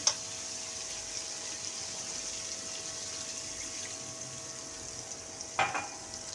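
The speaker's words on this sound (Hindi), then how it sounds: "इसमें मैं 2 गिलास पानी डालूँगी" Water is poured into a pot of lamb or mutton with bottle gourd (lauki) and turmeric, making a steady, continuous rushing hiss that lasts throughout, with a brief clink near the start and another near the end.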